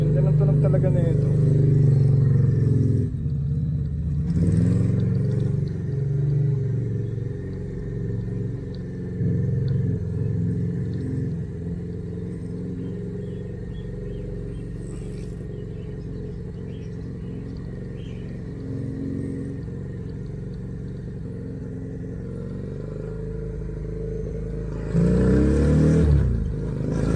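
A Victorino 250i motorcycle engine on a test ride gives a steady, close, low rumble with swells of revving and acceleration, with a voice talking over it at times.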